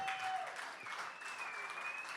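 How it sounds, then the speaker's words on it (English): Applause from a gala crowd at a lumberjack-themed event, a steady wash of clapping over 2 seconds with a faint tonal whistle running through it. "Give those folks a big round of applause"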